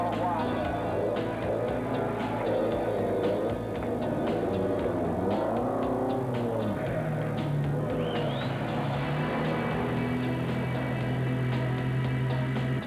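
The Hillman Hunter rally car driven by Andrew Cowan pulls away at the start of the London to Sydney Marathon, its engine revving and fading amid a murmuring crowd and steady background noise.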